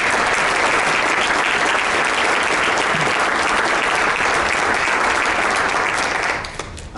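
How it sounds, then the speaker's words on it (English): A Rotary audience applauds a speaker, giving dense, loud, sustained clapping that fills the room evenly and then drops off abruptly at the very end. "give Patti another round of applause for picking this up"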